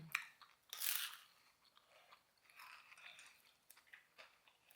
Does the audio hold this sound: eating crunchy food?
yes